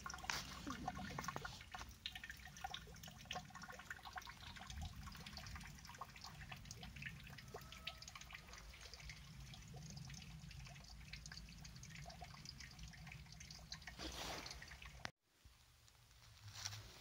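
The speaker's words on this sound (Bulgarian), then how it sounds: "Ето чешмата." Water from a monastery fountain trickles and splashes steadily and close by, a continuous liquid patter that is briefly cut by a dropout near the end before resuming softly.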